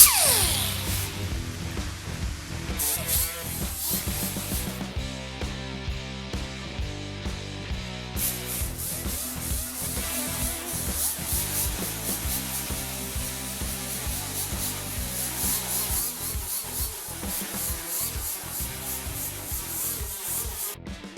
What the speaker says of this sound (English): I think I like the 36 on the die grinder